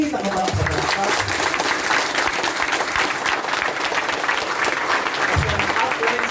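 An audience at a training and development event claps loudly and continuously, many hands together in a steady, full burst, with a voice briefly audible under the applause.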